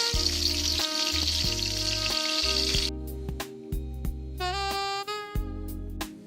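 Battered orange chicken pieces frying in oil hiss loudly and steadily for about three seconds, then the sizzle drops much quieter, with scattered clinks and a brief high squeal.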